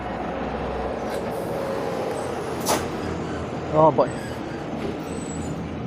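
A truck passes by as a continuous low road rumble with a brief hiss partway through, while a person speaks briefly over it.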